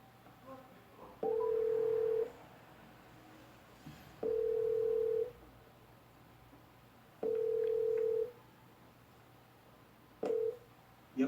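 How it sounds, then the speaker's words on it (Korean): A telephone call being dialed and ringing out: four clean ringback tones, each about a second long, repeating roughly every three seconds against a quiet background hum. "제가 전화를 드리도록 하겠습니다"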